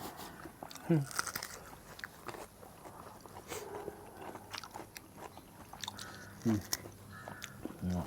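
Crunchy bites of grilled meat eaten with sticky rice during light rain at home, with a few sharp close crunches and chewing sounds over soft background noise and faint talk.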